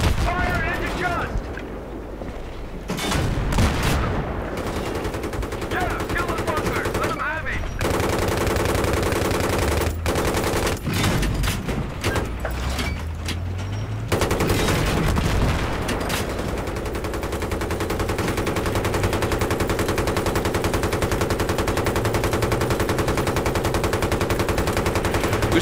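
Machine gun fire in the video game Battlefield 3 rattles in loud, rapid bursts with heavy explosive booms between them, followed by a long sustained stretch of dense gunfire.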